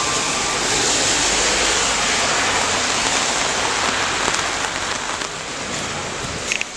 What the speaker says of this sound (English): It's raining really hard, and when I go out there, listen to the sound it makes on the umbrella